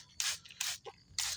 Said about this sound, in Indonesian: Jadi kita semprot juga